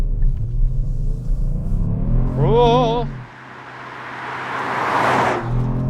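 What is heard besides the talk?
2018 Kia Stinger GT2 AWD engine accelerating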